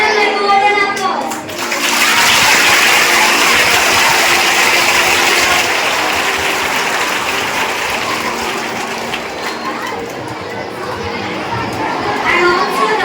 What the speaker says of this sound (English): Let's give them a golden applause.